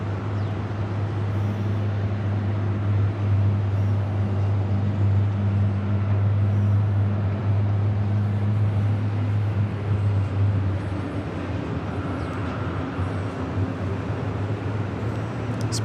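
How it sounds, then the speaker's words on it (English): Jet airliner engines spool up at JFK airport, a loud steady low rumble with a strong droning hum holding for most of the stretch before easing slightly near the end, no voices over it. "And now we have engine starts."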